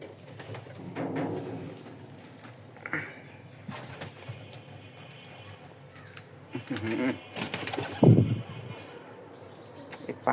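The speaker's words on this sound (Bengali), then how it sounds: "এই পায়রাগুলো ডিস্টার্ব" Pigeons nesting with their young, soft cooing and scattered wing flaps and shuffles heard close by, with a few brief bumps and quiet voices in the background.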